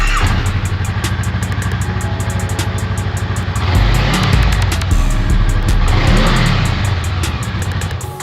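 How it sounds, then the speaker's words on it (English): A Honda Rebel 500 motorcycle with its stock exhaust idles close by, a steady low engine putter, then is revved twice, each rev rising and falling before settling back to idle. "I'm about to start the bike right now while the stock exhaust is on, and I'm gonna show y'all what it sounds like."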